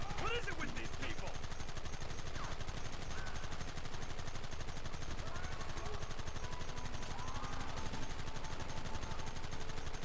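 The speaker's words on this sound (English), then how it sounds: "it's not just a Gatling gun, it's firing very fast, but it's also absolutely shredding" A Gatling gun firing very fast in a video game, a continuous rapid rattle of shots across the whole stretch with scattered game noises and voices layered over it.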